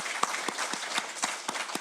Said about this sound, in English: can I get a round of applause for the presenters today?